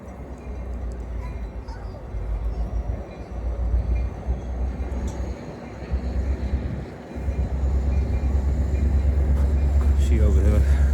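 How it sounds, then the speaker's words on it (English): A train rumbles behind a group playing outdoors in a snow blizzard, a low continuous roar that grows louder toward the end, with people talking over it. "Y'all hear the train behind us?"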